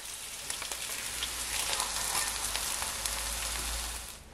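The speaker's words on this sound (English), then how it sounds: "I'm only frying 4 fish." Steady crackling sizzle of whole fish frying in hot oil in a pot, a dense hiss with scattered pops, continuous and close.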